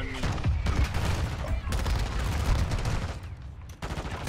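Rapid bursts of automatic gunfire in a first-person shooter game, dense and loud, the shots running almost continuously with brief gaps.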